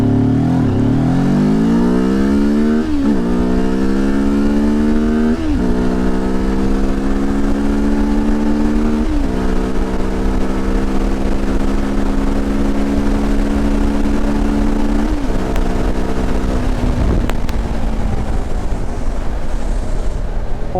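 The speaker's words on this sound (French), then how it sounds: "je vais partir de 0 à 100 là, et on va pousser. Alors je pousse toutes les vitesses au max, jusqu'aux ruptures quasiment" A Benelli TRK 702 motorcycle accelerates hard from 0 to 100, its engine note rising sharply in each gear before short dips at several upshifts, loud and close for the full run.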